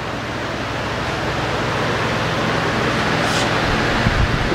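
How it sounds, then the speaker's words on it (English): Steady broadband whirr of a fan running close by in a garage during a 1968 Camaro restoration, constant and unchanging throughout, with no voices. "sorry about the fan noise."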